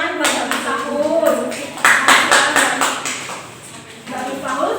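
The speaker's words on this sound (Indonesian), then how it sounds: "Ya, tepuk tangan buat Mbak Miftahul." Small group at a class event claps in loose, uneven bursts, with sharp individual hand claps close by and short pauses between them. Voices are heard in the background.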